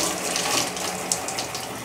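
Water rushes steadily from a faucet through the adapter of a Black and Decker portable washing machine, a close, continuous gushing hiss with no talking.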